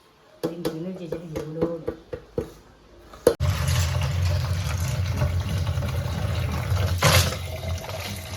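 Clams (coastal shellfish, marvai) being rinsed by hand in water for sukka, a sloshing, splashing wash running steadily after a few sharp clattering knocks at the start, close and fairly loud.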